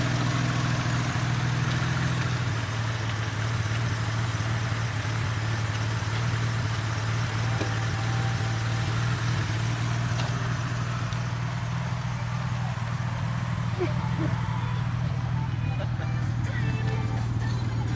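A Mitsubishi 3000GT (GTO) engine idles smoothly with a steady low hum that never varies, heard close up from start to finish.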